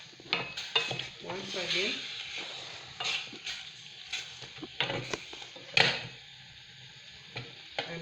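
Spices such as curry powder, black pepper, beef masala and paprika being stirred with beef in a pot, giving soft sizzling and irregular scraping clinks of a spoon against metal, with a brief spoken phrase early on.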